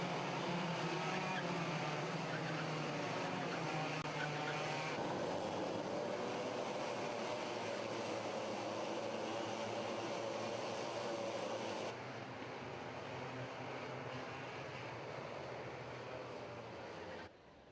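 Racing kart engines at a Club100 sprint championship race start at Rye House, a dense continuous roar of many engines rising together at a steady loud level, with a slight drop in the final seconds.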